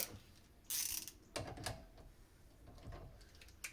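Ratchet wrench with a 19 mm socket working a rear brake bolt on a Peugeot 309 GTI during rear axle teardown: a few short bursts of clicking pawl and metal clatter, close and moderately loud, with no talk.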